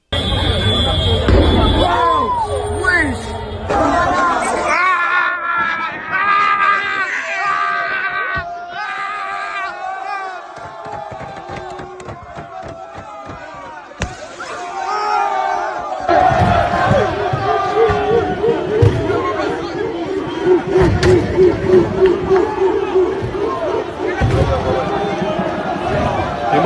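Rioting crowd on Paris streets after a PSG football match, loud shouting and chanting mixed with sharp bangs like fireworks, with bursts of noise, lulls and voices throughout.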